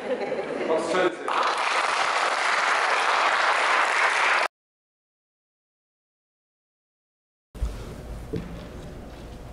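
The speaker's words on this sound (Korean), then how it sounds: "박수 쳐주세요" A congregation at a church installation service applauds with dense, steady clapping for several seconds. The sound cuts out abruptly, then a voice speaks.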